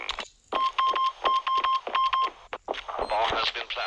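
In the mobile shooter Standoff 2, a planted bomb emits a run of short, evenly spaced electronic beeps, loud and close, with game sounds and voices talking around them.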